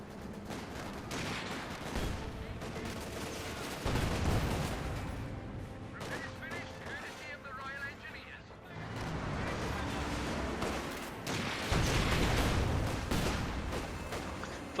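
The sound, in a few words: gunfire in Company of Heroes 2 video game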